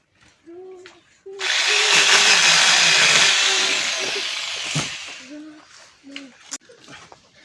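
A power tool whines into a walnut tree branch, a loud, steady buzzing cut lasting about three seconds before dropping off, with a person talking briefly before and after and a dog barking faintly outdoors.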